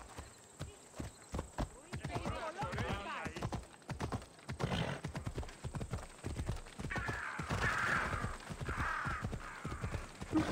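Rhythmic clip-clop of horse hooves trotting steadily in Assassin's Creed Odyssey, with a brief whinny and other ambient game sounds mixed in.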